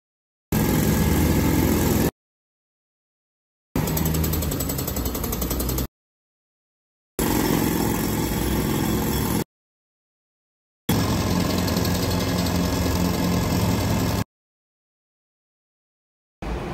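Road work machinery, including jackhammers and grinders, runs on a New York City street: a steady engine-like drone heard in four separate stretches broken by silences, fairly loud and unchanging within each stretch.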